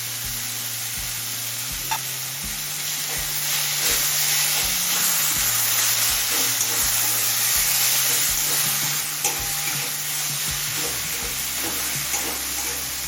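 Ginger and garlic paste frying with softened tomatoes in a pan, steady close sizzling broken by rhythmic stirring scrapes, with no voices.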